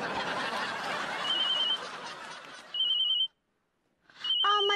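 A telephone rings in repeated electronic bursts in a Hindi TV sitcom, first under a noisy stretch of laughter and chatter, then alone and clear after a brief silence.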